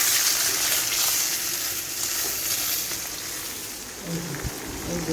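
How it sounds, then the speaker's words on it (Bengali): Fish fries in a pan with a loud, continuous close-up sizzle that crackles evenly throughout, with a brief tonal sound near the end. "সকালবেলা উঠে মাছটা ভাজা হয়ে যাচ্ছে"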